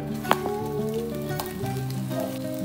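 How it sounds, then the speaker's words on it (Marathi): Chili thecha sautéing in two spoons of hot oil in a pan, a steady close sizzle and crackle throughout with one brief sharp tap near the start and no talking. "मी थोडासा तेलामध्ये परतून घेणार आहे"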